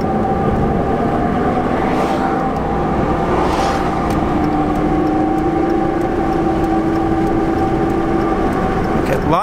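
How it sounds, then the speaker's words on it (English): A Dodge Ram pickup truck is driving with heavy tire noise: a constant loud road roar and droning hum with a steady whine running underneath, holding even throughout until a brief change at the very end. "A lot of tire sounds we got going on"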